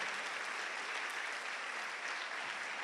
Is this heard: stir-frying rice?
no